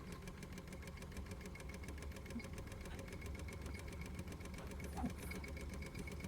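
A Wilesco D430 Lokomobile model steam engine runs smoothly and quietly, a soft, steady, rapid mechanical ticking with a faint hum, close by, with no talking.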